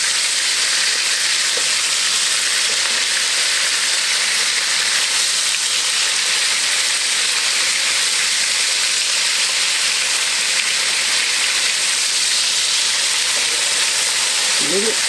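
Chicken browns in a pan with a loud, steady, continuous sizzle and hiss that lasts throughout, with no voices over it.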